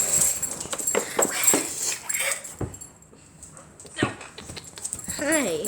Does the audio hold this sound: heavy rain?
no